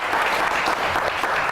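Audience applause in a Satrangi episode, steady, dense clapping close and loud throughout the short burst.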